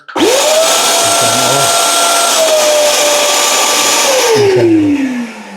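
A Hyundai 1200W upholstery and carpet vacuum motor whirs up, holds a steady high drone for about four seconds, then winds down with a falling pitch, close and loud.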